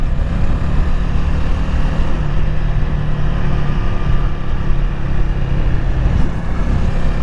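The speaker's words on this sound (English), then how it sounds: "I like riding this bike" Honda Rebel 300 motorcycle cruising along a road near Lawton, Oklahoma, a steady loud engine drone mixed with rushing wind noise, continuous and unbroken with no talking.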